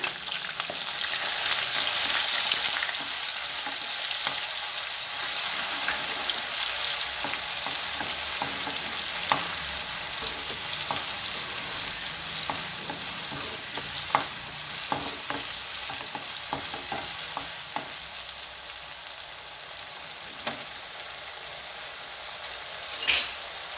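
Onion paste fries steadily in a pan for chana masala, a constant bright sizzle with scattered scraping and tapping stirs, close and even throughout.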